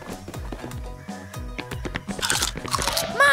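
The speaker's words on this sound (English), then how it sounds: "Oh, Nina anataka kula viatu vya Little Lion." A cartoon character munches on shoes, giving a rapid series of loud, close crunching bites that are steady at first and grow busier toward the end, with a brief voice near the close.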